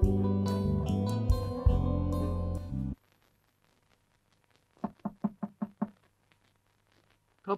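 Knocking on a door in an old Turkish film: after loud music cuts out, a run of about six quick, sharp knocks sounds close in near silence, with one more knock at the end.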